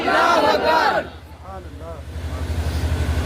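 A crowd at an Eid Milad-un-Nabi religious gathering shouts a loud chanted response to a Naara-e-Takbeer call, a brief roaring unison burst that cuts off after a second, leaving a low hum and a faint voice.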